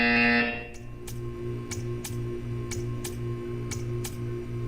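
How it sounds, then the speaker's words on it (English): A short, loud electronic buzzer blares at the start in the Portal 2 video game, then gives way to a steady series of evenly spaced ticking clicks over a low mechanical hum. "You will hear a buzzer."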